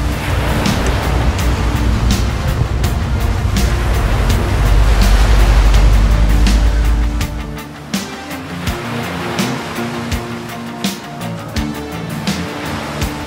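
Sea waves wash steadily at the harbour in Mykonos, Greece, a loud continuous surf roar that swells, then eases into a softer rush with scattered clicks and knocks.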